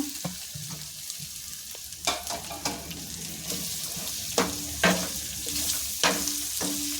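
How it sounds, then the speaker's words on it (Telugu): Potatoes for aloo fry sizzle in a hot pan while a spatula scrapes and stirs in irregular strokes, the frying hiss rising with each toss, close and without talk. "ఇప్పుడు ఆలు ఫ్రై కదండి, ఆలుగడ్డలు వేసుకుందాము."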